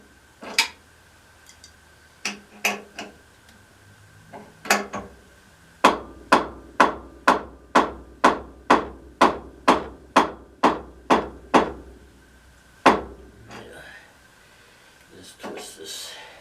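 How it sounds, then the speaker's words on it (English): Rubber mallet strikes a crescent wrench handle in a quick run of about a dozen evenly spaced, sharp taps, with a few scattered knocks before and after. "Using the rubber mallet here to keep from dinging up the handle of my"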